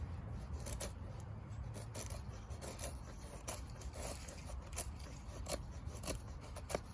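A vintage Marttiini Ilves puukko knife chips and carves against the wood grain, making faint, irregular scraping and rasping strokes close by.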